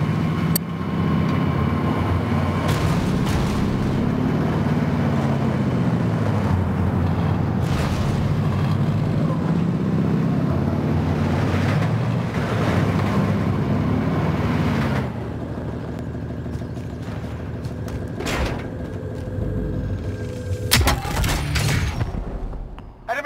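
A truck driven in the Call of Duty Warzone battle royale game gives a loud, steady engine roar with shifting pitch, then the sound drops into a lighter rumble with bursts of sharper noise near the end.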